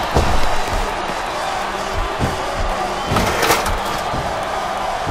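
Roaring arena crowd at an ECW wrestling event in a video game, a dense steady wall of cheering and noise with periodic thuds and slams from the ring, loud throughout.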